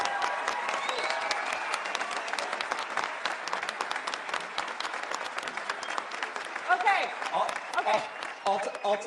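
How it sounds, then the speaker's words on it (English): A political conference audience applauds loudly and continuously in a standing ovation, dense clapping and crowd noise filling the hall, with some cheering voices rising near the end. "I'll take a standing ovation for a speech I already gave."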